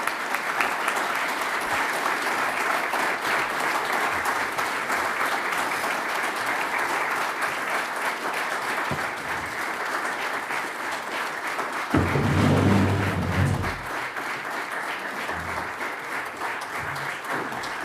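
Sustained applause fills a conference hall at the European Forum in Vienna after a speech, a dense, even wash of clapping that holds steady, with a brief louder low rumble near the end.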